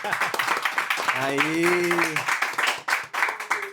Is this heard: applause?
yes